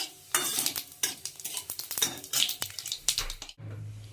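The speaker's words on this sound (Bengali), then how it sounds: "এবার আমি এতে সাদা জিরে ফোড়ন দেবো তেজপাতা ফোড়ন দেবো" Cumin seeds and a bay leaf crackle in hot mustard oil, with close, sharp clinks and scrapes of a spoon stirring in the pan over a steady sizzle.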